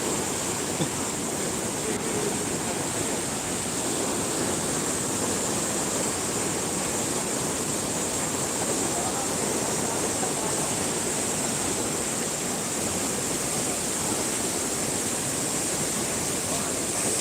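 Floodwater rising and rushing through a village after heavy rain: a steady, loud, unbroken roar of flowing water with no voices.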